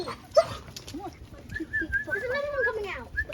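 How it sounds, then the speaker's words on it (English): Several puppies coming out through an opened door, with soft whimpers, yips and high whines over shuffling, and people talking throughout. "It's a parade of puppies."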